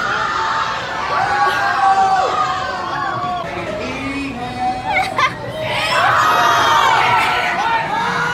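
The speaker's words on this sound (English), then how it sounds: "The screaming is so funny." Riders on a fast water ride at Canada's Wonderland amusement park scream and whoop together, a loud continuous crowd of shrieks that rises and falls over about eight seconds.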